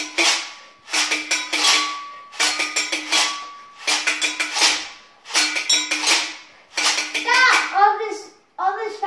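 Found-object percussion on chopsticks, water glasses, a water bottle and unpopped popcorn plays in bright rhythmic bursts of taps, rings and rattles, with short gaps between phrases and a closing shaker-like scatter.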